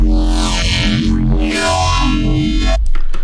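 FM synth neuro bass with ring modulation turned all the way up, a loud, dense, metallic growl with sweeping, wobbling harmonics that rise and fall, ending in a few choppy stuttered hits.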